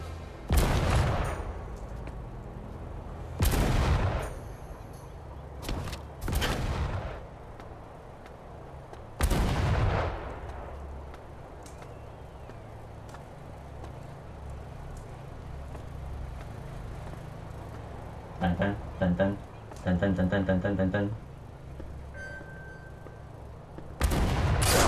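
Gunfire in the VR game Sniper Elite VR sounds as a handful of loud, sharp booming shots spaced irregularly, separated by quieter stretches, with a brief cluster of clattering mechanical sounds near the end.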